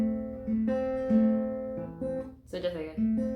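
Guitar picked in a steady alternation between the second and third strings, clear single plucked notes ringing over a low sustained bass note, close and quiet, played alone.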